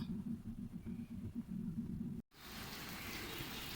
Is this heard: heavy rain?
yes